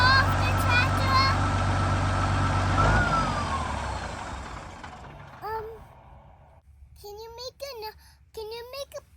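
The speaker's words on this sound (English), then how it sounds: "Can you turn it off, the tractor?" A farm tractor engine rumbles loudly and steadily at close range, then cuts off about three seconds in, leaving a quieter yard where someone talks in short bursts.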